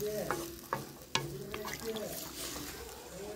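Large pieces of fish, including a koi fish, are stir-fried in spices in a pan. A loud sizzle runs throughout, with a few sharp scrapes and knocks of stirring and a voice in the background.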